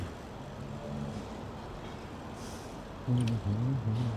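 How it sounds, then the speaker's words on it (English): A bus rolls by in Paris city traffic, its engine drone swelling near the end over a steady street rumble, moderately close. "That black bus."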